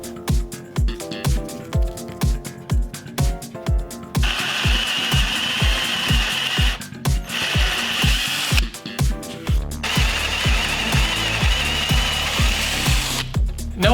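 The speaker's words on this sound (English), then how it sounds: "flag the 1/2 inch drill bit so it doesn't go all the way through" A power drill with a 1/2 inch bit bores holes into wood at a workbench, starting with a series of short rhythmic bursts and then running in longer sustained whirs, loud and close, with no talk.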